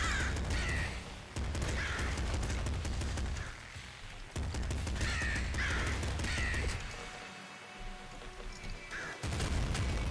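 Crow enemies in the video game Nuclear Throne caw repeatedly amid rapid in-game gunfire, the harsh calls recurring every couple of seconds over a busy, faint mix.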